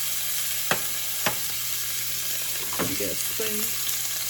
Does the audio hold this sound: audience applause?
no